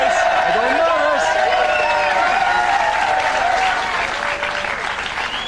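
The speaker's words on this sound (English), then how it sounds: "Cheer on, everybody!" A large crowd cheers and applauds steadily and loudly at an outdoor event, with a dense wash of clapping and shouting and a voice calling out over it near the start.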